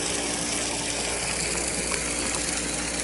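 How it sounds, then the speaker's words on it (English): A small garden sprinkler sprays water steadily onto a garden, making a loud, continuous hissing rush with a faint mechanical ticking underneath and no talking. "So I'm just running a little sprinkler."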